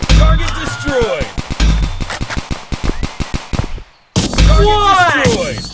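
Sniper and pistol gunfire in a video game: a loud, rapid run of sharp shots, then a brief gap and more booming fire with ringing tails. A voice speaks over parts of it.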